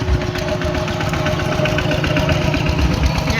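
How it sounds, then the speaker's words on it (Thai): A farm tractor engine runs close by near the Vietnam border area, a loud steady mechanical chugging with dense rhythmic knocking that fills the whole stretch with no talk over it. "รถไถกำลังมา"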